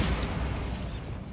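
A Bombarda spell blast in the video game Hogwarts Legacy, a loud, close, rumbling boom with a broad crackling burst that decays over about a second.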